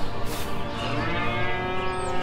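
Cattle mooing on a farm, a single drawn-out low bellow running through the whole moment at close range, with busy background noise around it.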